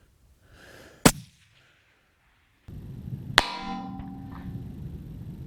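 Two sharp rifle shots at a long-range shooting session crack out about two seconds apart, each a loud, abrupt report, the second followed by a lingering low rumble and background hiss with no talk.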